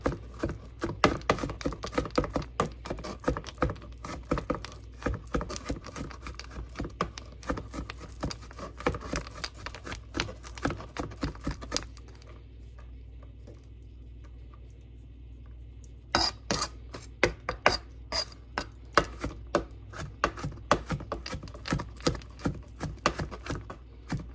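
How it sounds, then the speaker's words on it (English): A knife roughly chops vegetables for a kale and mixed veggie soup, striking the board in quick, uneven close taps that pause briefly near the middle and then resume. "So I'm just going to roughly chop these."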